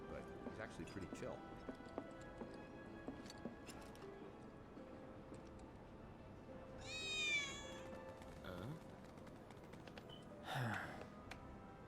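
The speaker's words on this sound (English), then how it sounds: "I swear I just heard a cat." A cat meows twice in Final Fantasy VII Remake, with a rising, wavering call and then a shorter one, over quiet game ambience and light ticking, while someone talks at intervals.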